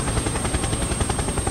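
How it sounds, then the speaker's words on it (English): A helicopter in the Yakuza Kiwami video game gives off a loud, dense, steady rotor roar with a fast pulsing chop, close and filling the sound, with no talking. "Helicopter! Helicopter!"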